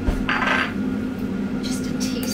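Granulated sugar goes into a dish for mint sauce: a brief clink and scrape of a spoon against the dish, then a short gritty patter, all close and quick.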